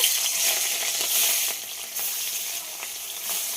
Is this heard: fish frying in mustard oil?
yes